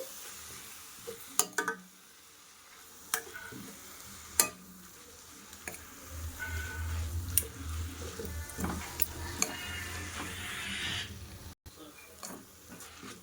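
Ponnaganti greens fry in a pan under scattered stirring clicks and utensil taps, with a soft sizzle that grows louder toward the middle and end.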